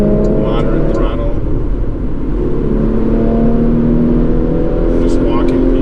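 A 2020 Porsche Macan GTS turbocharged engine pulls in fourth gear at moderate throttle, a steady loud drone heard from inside the car with little change in pitch, while someone talks over it.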